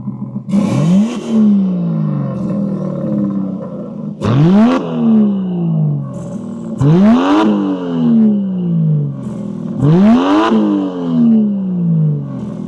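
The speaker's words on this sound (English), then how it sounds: "we're gonna go for a spin and see what is it really like to live with this Aston Martin Vanquish" A 2026 Aston Martin Vanquish engine revs hard four times while driving, each loud rising surge followed by a falling pitch as gears shift, close and dominant with no talking.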